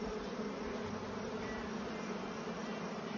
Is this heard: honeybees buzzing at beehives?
yes